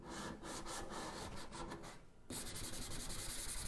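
Sandpaper rubbed by hand over the surface of a metal tin, a close, steady rasping scrub in quick strokes that briefly pauses and then resumes more loudly.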